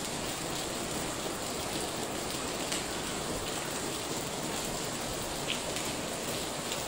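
Heavy rain pours in Jiufen, Taiwan, a dense, constant hiss of water hitting surfaces that fills the whole scene evenly from start to finish, with no talking.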